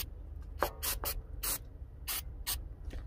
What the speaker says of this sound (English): little brake cleaner in there and then I'll re-grease them